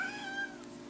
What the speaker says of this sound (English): Now the cat's hollering at me again.